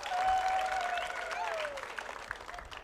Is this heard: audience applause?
yes